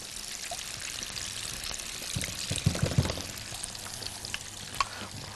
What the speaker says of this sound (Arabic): بديها شويه ميه سخنه صغيرين